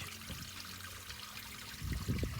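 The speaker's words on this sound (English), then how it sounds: "it's carved basin where the spring water drops into that, and this produces fresh water which would have supplied the village" Spring water trickles and drips into a carved stone basin at an abandoned moorland village, a soft, close, uneven pouring that grows fuller and splashier toward the end.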